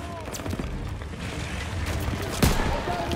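Gunfire in the World War II shooter Call of Duty: WWII, a dense wash of battle noise with one sharp, loud shot standing out near the end over continuous background rumble.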